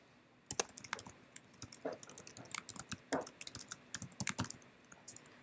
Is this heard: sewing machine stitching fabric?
no